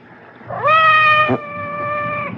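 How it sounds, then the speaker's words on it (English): A cat meows outside a door, one long drawn-out tonal cry that rises and then trails off into a quieter, sustained wail, close and clear with no talking. "It sounded like Madame's cat, Francois."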